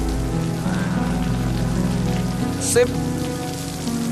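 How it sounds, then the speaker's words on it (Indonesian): Rain falls steadily as a soft, continuous patter over background music, with a brief spoken word cutting through near the middle. "Hujan lagi."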